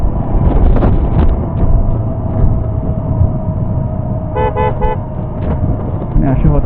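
A car drives along a road through green farmland and hills, with a steady engine and wind rumble and a quick burst of several horn toots midway, while someone talks over it.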